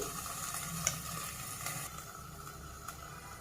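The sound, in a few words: green chillies and onions frying in a pan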